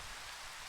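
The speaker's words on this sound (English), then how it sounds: "Daytime, and it's raining." Daytime rain falls in the Minecraft video game as a soft, even, continuous patter, faint and steady throughout.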